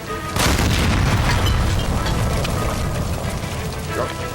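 In L.A. Noire a shot gas line by a stove erupts in a sudden, close, booming explosion, followed by a sustained roaring, crackling rumble that stays loud for several seconds; a voice is faintly mixed in.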